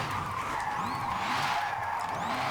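Tires on an electric car with 900 newton meters of torque squeal and skid as it slides, a continuous rushing screech with rising and falling chirps at moderate distance.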